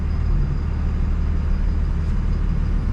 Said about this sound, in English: we're in the beautiful Bear Valley Road traffic